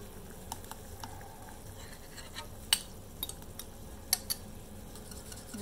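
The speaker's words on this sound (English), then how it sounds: "And just stir it up. It's like egg drop soup." A spoon stirs egg into a hamburger and beef bone broth soup in a pot, giving faint, scattered clinks against a quiet, steady background hiss.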